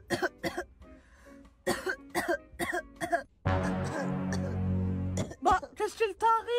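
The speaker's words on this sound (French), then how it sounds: "je tousse beaucoup" A voice talks, then coughs several times in a close, harsh burst lasting about two seconds before speech resumes.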